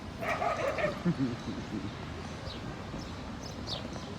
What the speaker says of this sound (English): Look, dogs.